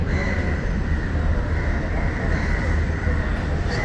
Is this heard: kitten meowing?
no